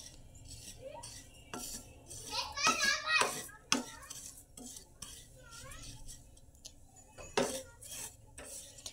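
Oats dry roasting in a pan with no oil or ghee, a spoon scraping and clinking against the metal in irregular strokes, close by, with a voice chattering in the background.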